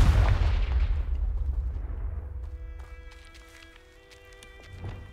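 A Confringo blast spell goes off in the video game Hogwarts Legacy. A loud, booming explosion opens the clip and its low rumble fades over a couple of seconds. Quieter game sounds and a soft thump follow near the end.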